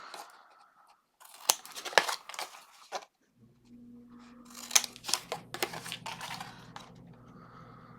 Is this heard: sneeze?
no